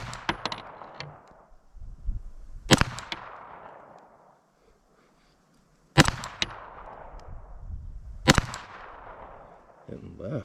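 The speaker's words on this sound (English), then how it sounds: "we're going to put 2 rounds in each corner target and then fire some rounds into the center" Pistol shots fired at corner and center targets, with Glock 17L, Steyr L9 and Walther PPQ M2 5-inch handguns in use: three sharp, loud reports spaced a few seconds apart, each with ringing decay, amid background noise.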